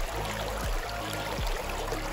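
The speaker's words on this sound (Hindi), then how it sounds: "इधर पानी का फ्लो देखो" A stream in the forest at Jayanti near Buxa Hills flows in a steady, close, full rush of water, with a few low thuds from handling underneath and no talking.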